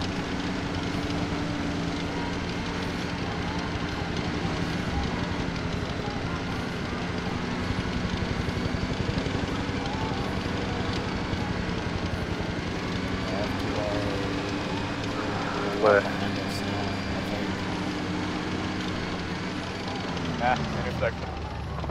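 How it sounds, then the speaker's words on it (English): A helicopter passes overhead in a military game scenario on a prairie, a steady rotor and engine drone filling the scene throughout, with a few sharp clicks and voices talking over it. "Now I hear a helicopter."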